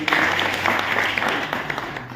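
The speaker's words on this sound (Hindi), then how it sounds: "एक बार जोरदार तालियों से स्वागत है" Applause from a crowd at a BJP membership campaign workshop in Sirohi, welcoming a speaker; steady, dense clapping fills the whole stretch at moderate loudness.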